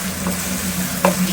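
Mutton biryani masala frying in a pan and being stirred, giving a steady close sizzle broken by a couple of short scraping strokes, with no voices.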